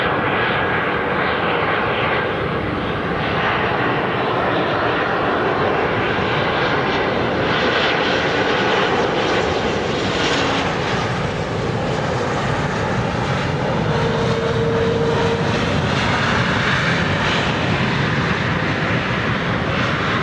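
A fixed-wing airliner climbs out after takeoff from London City Airport, its engine roar loud, broad and continuous for the whole stretch, with no voices.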